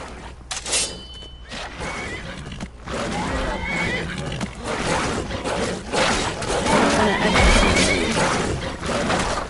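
A horse neighs loudly near the start in the game Skyrim, followed by a busy stretch of clashing, thudding combat with bandits.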